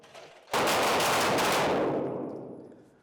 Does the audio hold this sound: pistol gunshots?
yes